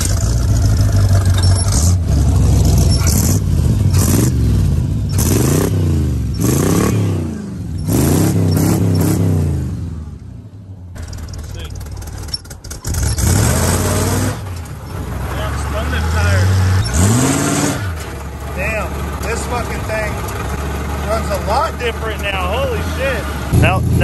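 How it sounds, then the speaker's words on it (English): A Chevy 350 V8 fitted in a Mule revs loud and close, rising and falling in repeated swells, then drops to a high idle while people talk over it. "it's idling a little high, so we may adjust that"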